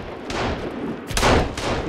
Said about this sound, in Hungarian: Na jó, itt az ideje lövöldözni.